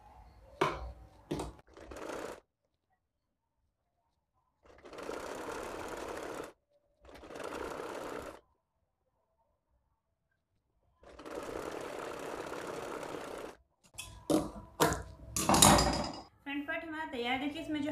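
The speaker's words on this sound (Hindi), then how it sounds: "देखिए जो हमारी बेल्ट है इसको हम करेंगे फोल्ड और यहाँ से इसके ऊपर रखेंगे और सिल देंगे।" A sewing machine stitches a folded fabric belt onto a pair of shorts in several separate runs of steady mechanical whirring, separated by silent pauses, followed by clattering handling noises near the end.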